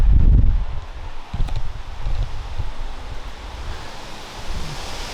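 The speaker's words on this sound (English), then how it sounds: "it's so windy" Strong wind roars and buffets the microphone, a heavy rumbling gust at first, then continuing as a steady rushing blow outdoors.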